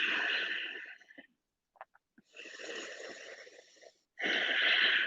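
Loud, deep breaths during a yoga flow, each long inhale or exhale rushing and airy at close range, separated by a short quiet pause with faint clicks, with no talking.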